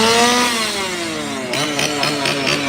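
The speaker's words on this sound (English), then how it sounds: "here's a chainsaw guy" A chainsaw engine runs loud and close at Halloween Horror Nights Orlando, its whining pitch dropping then revving in rough pulses.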